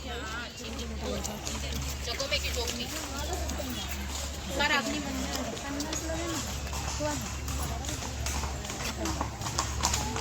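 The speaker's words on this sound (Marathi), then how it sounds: "घोडा घोडा" Steady clip-clop of horse hooves in Matheran over a continuous low engine-like hum, with people talking and a voice throughout.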